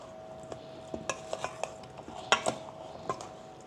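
Pesto sauce with black pepper is stirred into a salad, with a scattering of soft scraping and clinking taps from a utensil against the bowl at an uneven pace, fairly quiet and close.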